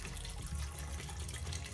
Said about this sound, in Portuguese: Vou estar cobrindo ele com água.